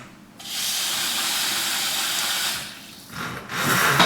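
Water runs from a kitchen tap into a pot of southern-style beans, a steady close hiss and splash for over two seconds, briefly dropping before the flow surges louder again at the end.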